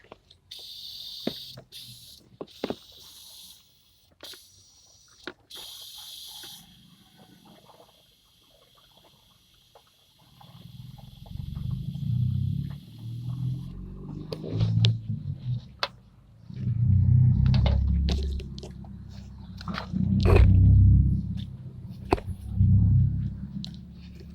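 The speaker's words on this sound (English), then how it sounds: "Let's fill um, the drain pan with water." Water pours into the AC evaporator drain pan of a Hyundai Eon, with low gurgling, sloshing bursts that swell and fade. Clicks and light handling noises come first, and there is no speech.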